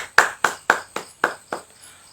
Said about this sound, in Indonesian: Ayo kita beri tepuk tangan.